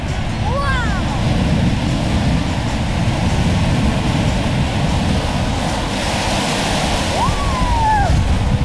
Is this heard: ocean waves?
yes